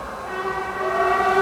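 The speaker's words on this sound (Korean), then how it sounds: "저 정도로 막 빵빵거리고 갈 정도는 소방차가" Fire truck horn blaring during a run to an apartment fire, a steady sustained honk with harmonic layers that grows slightly louder across the moment, no voices over it.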